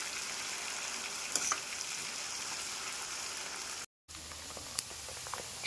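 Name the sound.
prawns frying in oil on medium flame until crispy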